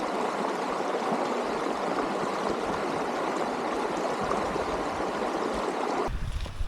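River flowing steadily on a Hanmer Forest mountain bike trail, a loud continuous rushing and babbling of water, close by and uninterrupted.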